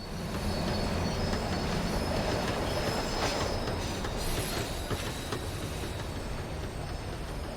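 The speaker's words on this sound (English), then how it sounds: "The tram was slowing down, and I'd only just gotten on board." A tram slowing down in the Max Payne 3 video game, with steady rumbling rail noise and squealing wheels that fade slightly as it decelerates.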